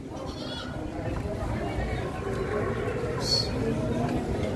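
Goats bleating among the crowd at a livestock trading market in Padre Garcia, Batangas, with several short calls rising over steady background chatter and people talking throughout.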